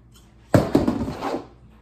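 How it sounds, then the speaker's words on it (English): Scissors snip through a folded piece of vinyl repair patch material, cutting off its corners: a sharp cut at the start, followed by a couple of quieter rustling snips close by, with no talking. "I'm then going to fold it in half, and I'm going to cut off the corners."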